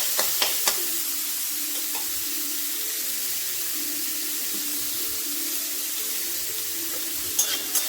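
Chopped onions with salt stirred in a hot pan, a steady soft sizzle with a few spoon knocks at the start and end, close and unaccompanied by speech.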